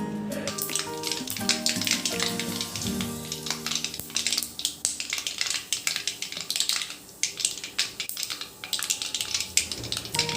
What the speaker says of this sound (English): Once the oil is hot, we can add half a teaspoon of mustard seeds.